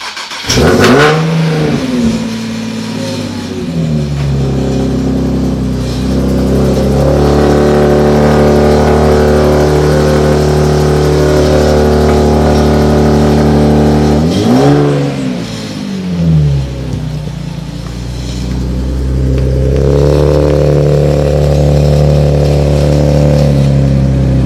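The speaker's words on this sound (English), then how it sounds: "I'm gonna get Marco starting up his car and moving it" A car engine cranks and catches, then idles and revs repeatedly at close range, loud and sustained, with a second rise in revs partway through and no talk.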